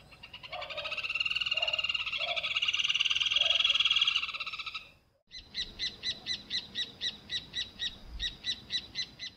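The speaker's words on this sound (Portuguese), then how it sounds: "João de Barro." Rufous hornero calling: a dense, noisy chatter of overlapping notes, then a brief pause and a loud, rhythmic run of sharp repeated notes evenly spaced, close and clear with no voices.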